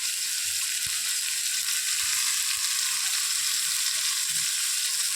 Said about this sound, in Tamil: நல்லா இஞ்சி பச்சை வாசனை போகிற வரைக்கும் நல்லா ஃப்ரை பண்ணணும்